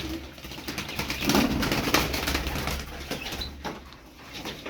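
A sinekli mavi pigeon coos in a steady murmuring run close by, with soft wing flutters and ambient bird noise around it, no voices.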